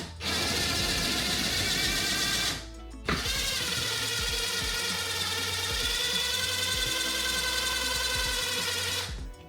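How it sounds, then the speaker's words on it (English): Cordless impact driver driving screws into a wall, a loud continuous ratcheting whir that runs for about two and a half seconds, stops briefly, then resumes for roughly six more seconds, close and dominant with no talking. "I really had to drive those, even with the impact driver"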